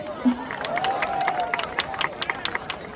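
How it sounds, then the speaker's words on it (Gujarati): An audience at a public event breaks into scattered clapping that builds into a dense patter of applause, with crowd murmur and a voice underneath. "તાળીઓ વગાડવી જોઈએ ભાઈ."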